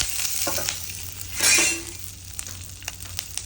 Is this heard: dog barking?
no